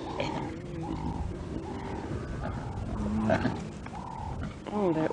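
Lions at a buffalo kill growl and roar in a rumbling, overlapping commotion, with deep guttural calls rising and falling close by.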